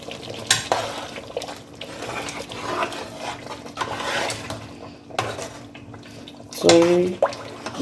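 Scraping and clinking of a utensil stirring Nigerian turkey stew in a pot, intermittent and close, with faint kitchen bubbling and a short voice near the end.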